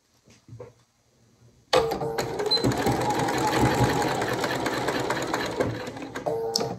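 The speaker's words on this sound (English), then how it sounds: "I'm going to stitch this and see how it comes out" Sewing machine stitching a flange binding seam, running steadily and loud for about five seconds after a brief quiet moment with a faint voice at the start.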